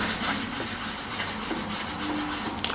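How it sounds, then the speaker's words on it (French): A magic sponge with Marseille soap scrubbing a shoe: continuous close, rough rubbing and scraping that holds steady with no breaks, heard alone. "Il faut que je frotte encore un peu"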